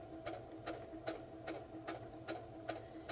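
A sewing machine stitches a pocket onto an apron, its steady motor hum broken by regular needle thumps about every 0.4 seconds, close and moderately quiet with no talking.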